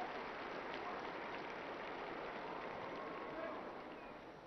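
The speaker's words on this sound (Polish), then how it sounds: "słyszymy oklaski, przywitania Ojca Świętego" A large crowd applauds to welcome Pope Francis at the Sunday Angelus, a dense, steady wash of clapping that fills the whole stretch and fades slightly toward the end.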